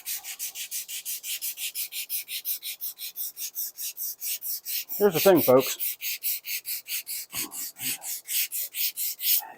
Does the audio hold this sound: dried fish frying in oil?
no